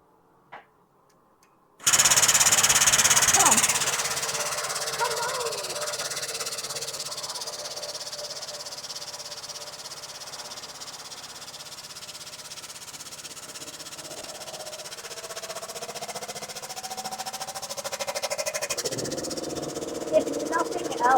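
A forging press working stainless steel starts after a short silence with a sharp hissing burst, then settles into a steady, fairly loud mechanical hum and hiss that lasts to the end.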